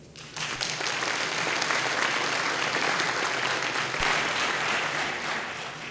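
Audience at an Electrochemical Society plenary session breaks into applause for past division chairs, with the clapping rising quickly and holding as a full, even wash before easing slightly toward the end.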